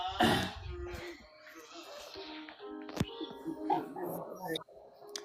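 A dog whines and yips in short, quiet, rising and falling cries, broken by brief pauses, with a person talking softly now and then in a quiet indoor setting.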